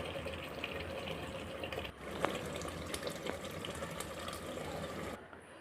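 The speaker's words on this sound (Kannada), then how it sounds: "ರುಬ್ಬಿರೋಂಥ ಜಾರಿಗೆ ಸ್ವಲ್ಪ ನೀರು ಹಾಕ್ಬಿಟ್ಟು ಅದೇ ನೀರನ್ನ ಇದಕ್ಕೆ ಆ್ಯಡ್ ಮಾಡ್ಕೊಳ್ಳಿ" Water is poured from a grinder jar into a pan of mutton chops cooking in oil, a steady close splashing trickle with a short sharper splash midway, ending abruptly, with no voices.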